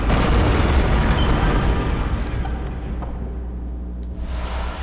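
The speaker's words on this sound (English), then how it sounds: "Church cannon." A church cannon in the video game Bloodborne fires with a deep boom at the start, followed by a rumbling roar that slowly fades, with a faint click near the end.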